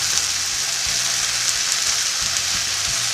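Vegetables stir-fry in a pan without oil, a dense, continuous hissing crackle heard up close and fairly loud, with faint low knocks of stirring underneath and no voices.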